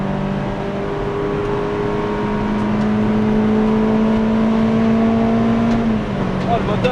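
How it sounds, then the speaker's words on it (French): A car engine on a track day at Folembray drones and climbs in pitch as it revs, a steady loud interior hum with rising and falling tone, while people talk over it. "Oh, le moteur, qu'est-ce que ça marche."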